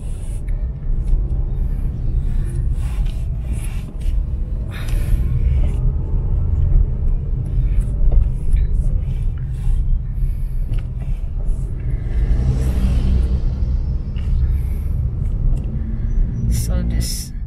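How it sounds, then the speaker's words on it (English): A big bus rumbles on a road in Talamban, Cebu, Philippines, a steady loud low-frequency engine and road drone that runs throughout with passing traffic noise layered over it. "So this is a big bus here."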